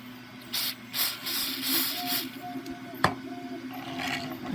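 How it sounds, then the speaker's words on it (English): A soft hissing spray plays in short bursts over a steady background hum while spraying the axle of a model horse cart, with a sharp click partway through, close by. "And then we're going to spray the axle."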